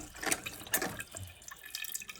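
Water runs softly from a toilet fill valve as the tank refills, a faint trickling hiss with a couple of brief splashy surges near the start.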